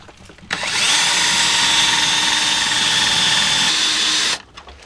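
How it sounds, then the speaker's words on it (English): A handheld power drill bores through metal during a skoolie school-bus kitchen build, its loud, close, steady high-pitched whine running about four seconds before cutting off abruptly, with no talking. "I'm going to drill this right now, because this will drill through this."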